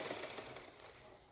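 A Butterfly sewing machine on a heavy stand runs with a quick, even mechanical clatter of stitching pulses, close but faint, fading slightly toward the end.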